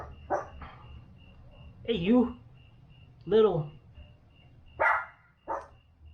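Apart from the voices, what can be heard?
neighbor's dog barking a few houses away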